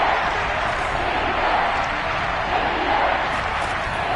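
Steady, dense roar of a football stadium crowd at an Eagles–Panthers wildcard game, building anticipation before a big third down, with a continuous wash of cheering and no distinct pauses.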